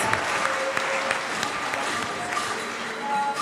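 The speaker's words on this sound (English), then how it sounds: "A round of applause for our speakers." Audience applauding the speakers at a campus entrepreneurship event, a dense continuous patter of clapping with light crowd noise throughout.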